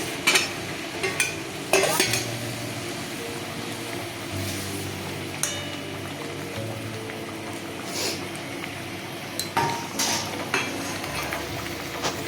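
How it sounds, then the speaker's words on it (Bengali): Fesha fish being added to a boiling mustard-paste curry, a continuous close bubbling sizzle with scattered knocks and scrapes of a utensil against the pot, and no talk. "ঝোল ফুটে গেছে মাছগুলো ছেড়ে দিচ্ছি"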